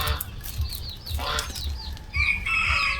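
Chickens cluck and a rooster crows nearby over steady low background rumble, with several birds calling at once.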